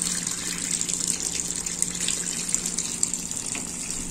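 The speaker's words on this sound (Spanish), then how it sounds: "Y le ponemos poquita agua para que se llene un poquito más." Water gushes steadily into a container holding diluted fabric softener, a continuous hissing pour at close range with no talking.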